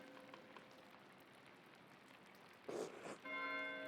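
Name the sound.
bell ringing in the video game Pentiment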